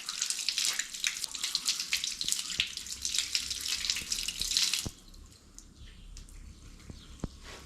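Hands being washed under a running tap at a village mosque, water splashing steadily and close for several seconds before the flow thins to a quieter trickle with scattered drips.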